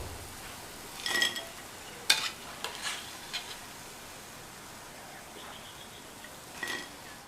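Raw banana pieces deep fry in hot oil with a soft, low, continuous sizzle, broken by a few light metallic clinks of a utensil against the pan.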